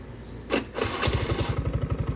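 A carburetor-type Honda Beat scooter's small engine cranks with a couple of quick bursts, then catches and settles into a rapid, uneven, noisy putter close by.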